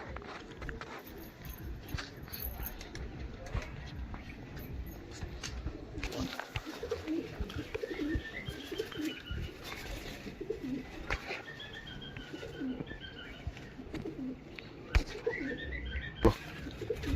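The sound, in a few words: pigeon cooing while held in the hand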